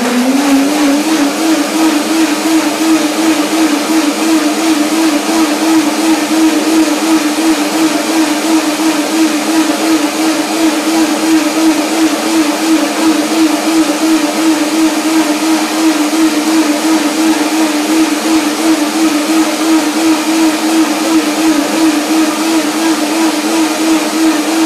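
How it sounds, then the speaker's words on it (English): A blender making a curry avocado walnut cream whirs steadily and loudly for the whole stretch, its motor holding a constant pitch with no pauses and no voices. "So now the blender dance."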